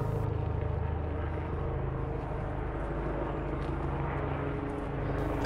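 Seaplane or helicopter flying over Stanley Park in Vancouver, a steady low engine drone that fills the whole stretch, moderately loud and unbroken, with no talking.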